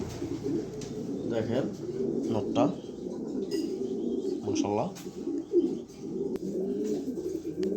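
Close, throaty cooing from red checker pigeons, including a hen, rises and falls in repeated rolls while someone talks over them.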